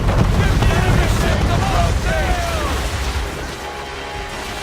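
Sailing ship running under full sail in Assassin's Creed III, with a steady loud rush of wind and water that eases toward the end, while voices call out over it.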